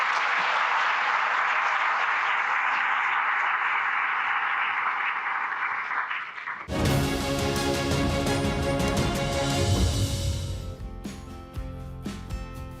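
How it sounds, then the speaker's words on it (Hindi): Steady applause fills the first six and a half seconds on its own, then cuts abruptly to loud music that carries through to the end. "उनके लिए तो थोड़ा तालियां बजाएं"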